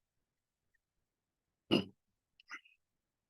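A man clears his throat once, then gives a couple of short, soft coughs a moment later, close by in an otherwise silent room.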